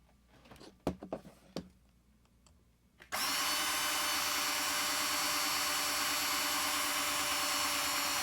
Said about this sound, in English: All right, so let me finish drilling here.